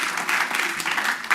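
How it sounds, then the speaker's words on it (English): Brief burst of applause from the audience at a city council meeting, a moderate crowd clapping steadily for a second or so. "That means an applause."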